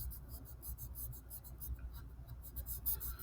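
Pencil shading on paper with a very light touch, a soft continuous scratchy rasp in quick back-and-forth strokes, close up and quiet, no talking.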